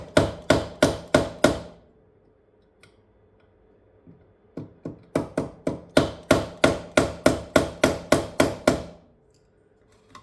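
Metal pins being hammered into a 3D printer frame: two quick bursts of sharp, evenly spaced strikes, about five blows, then a pause with one faint tap, then a longer run of about fifteen ringing hits, close and loud.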